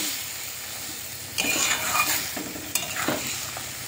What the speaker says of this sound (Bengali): দিয়ে ভালো করে নেড়ে চেড়ে কষিয়ে নেব।